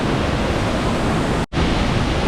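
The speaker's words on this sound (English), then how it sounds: "there's some of the waterfall you don't normally get to see unless you get right up on it" Shoshone Falls on the Snake River roars from very close range, a loud, dense, unbroken rush of falling water, briefly cut for an instant midway before resuming.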